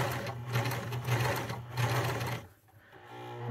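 Sewing machine stitching a straight seam on a wide twist-style bandana headband, guided by a magnetic seam guide; a steady close motor whir runs for about two and a half seconds, then stops.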